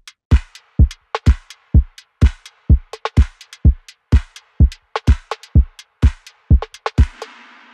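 Lo-fi house drum pattern from a synthesized kit with processed, slightly off-grid hand claps: steady punchy kicks and sharp snappy hits in a quantized groove, ending in a wide reverb splash, loud and dry without talking.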